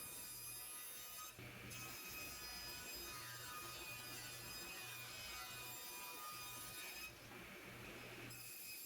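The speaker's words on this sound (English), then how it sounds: "I then ripped them down to the desired width and cut them to length" Wooden shelf boards are sawn to length in a home workshop, a faint, repetitive back-and-forth rasping with short pauses, heard alone over quiet room noise.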